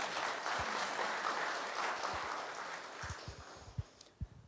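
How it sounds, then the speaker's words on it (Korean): Audience applause at a G Valley CEO forum: a broad wash of clapping that gradually thins and fades, leaving a few scattered, louder individual claps near the end. "박수 한번 치겠습니다."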